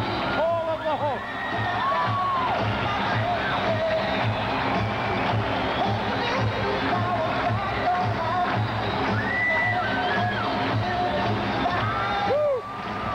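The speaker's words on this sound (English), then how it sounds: "Listen to the crowd. Listen to the cheering." A big wrestling arena crowd cheers and whoops in a steady, dense roar for the whole stretch, with scattered shouts and whistles rising above the babble.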